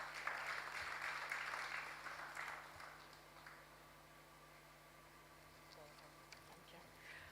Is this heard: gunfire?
no